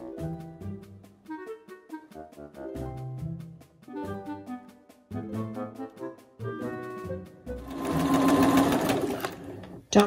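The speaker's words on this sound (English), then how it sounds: "We're going to stitch down both sides only, and the same thing on the front fabric" A sewing machine stitching down the sides of a fabric basket, with clattering runs of stitches in short bursts separated by pauses, ending in a longer, denser whirring stretch.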